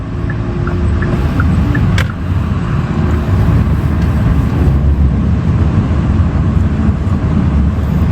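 A car on a city street in Almaty pulls away, its engine noise a loud, steady, broad rumble heard from inside the cabin, with a few faint higher tones over it.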